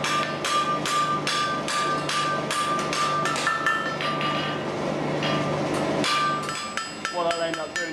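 Blacksmith forging a ram's-head poker, hammer strikes ringing on hot metal in a quick, steady run of sharp metallic blows, close and loud against a low background hum, easing off near the end.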